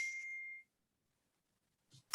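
A phone chimes once with a bright ringing ding for a text message alert, fading within about half a second into near silence, followed by a brief faint rustle.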